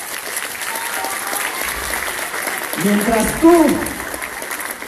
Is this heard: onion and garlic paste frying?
no